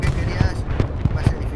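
Gunfire and bombardment in the Hell Let Loose war game: a run of sharp, punchy blasts at roughly regular intervals over a steady rumbling battlefield background.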